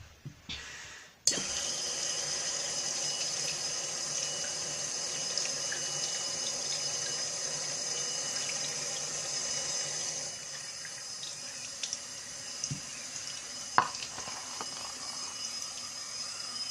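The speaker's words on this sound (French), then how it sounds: "le robinet tourne à fond" Hot water gushes steadily from a tap opened fully, a loud continuous rush filling a sink, with a brief clatter near the start and occasional small knocks.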